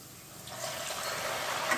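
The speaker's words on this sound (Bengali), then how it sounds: "এবার আমি হচ্ছে যে মাংসটা সিদ্ধ করে রেখে দিয়েছি, এই মাংসটা পুরো জল সমেত তার মধ্যে দিয়ে দেবো।" Boiled mutton and its cooking water pour into a hot pan of fried spices in a home kitchen, giving a soft, rising splash and sizzle over a brief moment.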